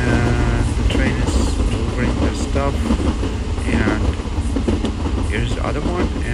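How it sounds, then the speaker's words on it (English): A train rumbles steadily through a scene in the mobile game TrainStation 2, loud and continuous with rhythmic rail clatter and clanking under layered game sounds. "the train is delivering their stuff"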